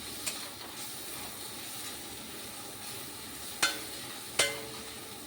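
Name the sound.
stirring dried fish with spices in a frying pan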